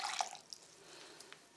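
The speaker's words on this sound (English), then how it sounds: "All I've got to do is strain it through a cloth" Gelatine stock from a boiled pig's head, feet and tail drips while being strained through a cloth, giving a few faint, close drips and small splashes early on that fade into quiet.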